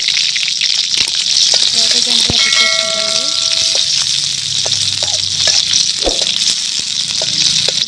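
Onions and green chillies fry in hot oil with a steady, loud sizzle throughout, broken by a few brief clinks and stirring sounds.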